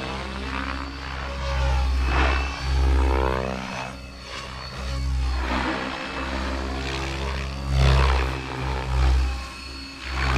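A 550-size RC helicopter spools up its rotors, a loud steady whine and pulsing rotor drone that swells and dips across the whole stretch, close by with no talk.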